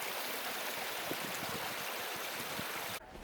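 A creek runs beside a hiking trail near Glacier Lake in Banff National Park, giving a steady, close rush of water for about three seconds before it drops off abruptly at the end.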